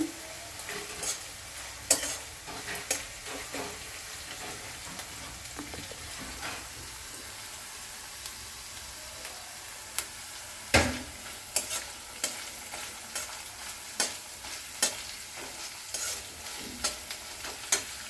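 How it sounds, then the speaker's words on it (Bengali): Onions frying in a pan make a continuous, moderate sizzle, broken by frequent crisp clicks and scrapes of a spoon stirring them, close by with no talking. "পেঁয়াজকে কিছুক্ষণ ভেজে নিতে হবে"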